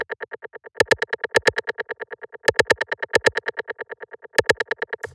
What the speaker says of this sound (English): that's just like a little rim shot sample,